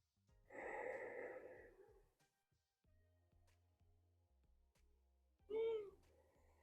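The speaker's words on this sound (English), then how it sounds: "This is my kitty Ling Ling." A house cat gives a loud, drawn-out meow at the start and a second short, sharp meow near the end, with faint low background hum in a quiet room during a yoga session.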